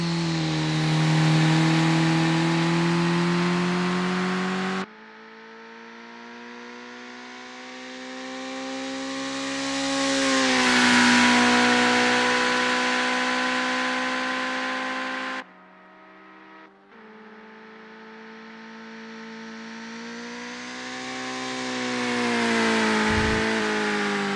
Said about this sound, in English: Patrick Schwanz is getting to grips with the Suzuki Cappuccino in this practice session.